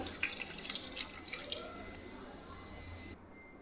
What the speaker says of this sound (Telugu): ఇప్పుడు దీంట్లో ఒక వన్ గ్లాస్ ఆఫ్ వాటర్ పోస్తున్నాను నేను